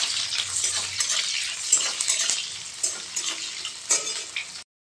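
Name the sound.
chopped onions frying and being stirred in pan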